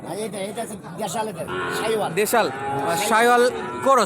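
Shahiwal cattle from Rangpur farms low at a busy cattle market in Ambari, with drawn-out moos mixed into close, lively talk among people.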